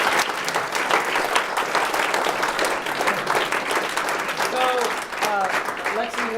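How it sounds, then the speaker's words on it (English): An audience gives sustained applause after a talk. The dense, steady clapping continues at an even level throughout, with faint talk emerging near the end. "So let's give Josh a big round of applause."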